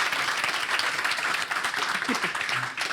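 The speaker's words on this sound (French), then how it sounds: "L'applaudissement qui ne se termine pas." A studio audience at a French talk show applauds a guest, loud sustained clapping from many hands that runs on without pause, with a few faint voices underneath.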